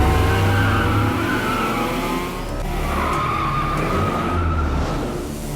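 Race car engine revving hard with tires skidding and squealing during a street racing chase in a film, a loud continuous roar with sliding tire screech throughout.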